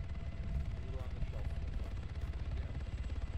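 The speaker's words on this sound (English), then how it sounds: "Helicopter's coming out, get ready." A video-game helicopter drones with a low, pulsing rotor rumble that holds steady throughout, partly under a person talking over a radio-like channel.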